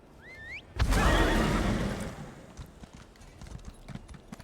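A horse in Elder Scrolls Online whinnies with a rising squeal, then a loud burst of hooves and movement noise swells and fades into lighter clip-clop steps.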